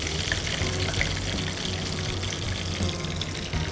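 Tempura sizzles and crackles in hot frying oil, a dense, steady hiss heard close up with no voices present.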